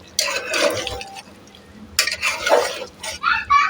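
Chicken kosha with garam masala is stirred in a pot, giving two short bursts of scraping and sizzling separated by a quiet pause, close and moderately loud, with a few clinks at the end.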